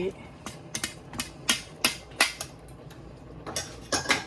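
Lid work on a pot of chicken biryani, with a series of sharp metallic clinks and taps of metal on metal, close and moderately loud, spaced irregularly over a few seconds.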